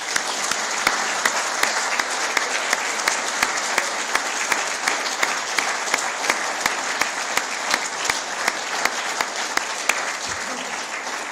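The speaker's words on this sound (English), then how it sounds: "would you please give them a big round of applause?" A crowd at an annual general meeting bursts into sustained applause, steady dense clapping that holds for the whole stretch at an even level with no talk over it.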